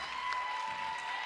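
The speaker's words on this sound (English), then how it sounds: "Nice warm round of applause from the folks here in the building at Wayfair Arena." Crowd applause at a basketball game in Wayfair Arena, a faint, distant wash of clapping that holds steady through a short stretch.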